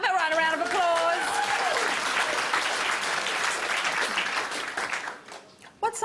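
A studio audience on a rock music quiz show breaks into applause after a correct answer. A voice is heard at the start, then full clapping builds and fades out near the end.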